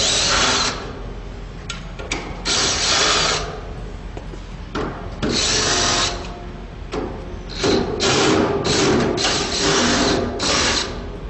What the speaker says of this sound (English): you need to get your extension for your drill, and you loosen all of those right up